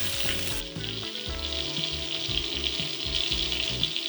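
A salmon fillet sears in a hot pan with a loud, steady sizzle and crackle that carries on without a break, close up, with no voices.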